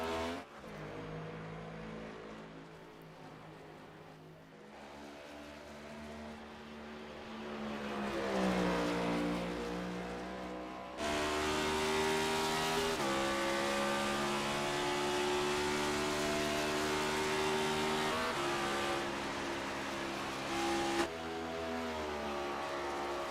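Ford Mustang race cars in a Darkside Mustangs A2 Cup Series qualifying session, engines droning and revving with shifting pitch as the cars accelerate through gears, loud and continuous, with no talk.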